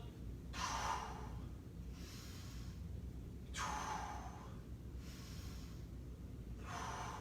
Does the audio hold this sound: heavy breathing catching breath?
yes